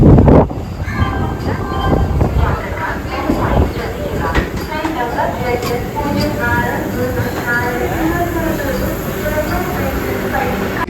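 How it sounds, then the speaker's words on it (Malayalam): A 20-car Vande Bharat train rolls into platform 2 at Thrissur station, a steady rumble and wheel clatter with wind noise on the microphone, loud and close, while a voice speaks over it. "അപ്പോൾ അതങ്ങനെ വന്ന് പ്ലാറ്റ്ഫോം നമ്പർ 2 കയറിക്കൊണ്ടിരിക്കുകയാണ് വന്ദേ ഭാരത്."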